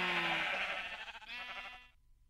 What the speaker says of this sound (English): Wow, that is like quantum sheep.